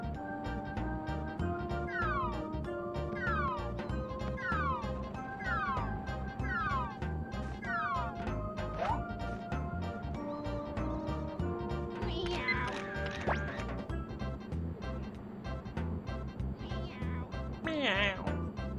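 A cat meows repeatedly in a run of drawn-out, falling cries over a steady background during an old-school gaming session, with a few higher, sharper cries near the end.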